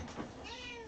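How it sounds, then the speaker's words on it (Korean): A pet cat gives a single soft, drawn-out meow close to the mic, quiet and brief, with no talk over it. "제 집 고양이도 한번 보여주고"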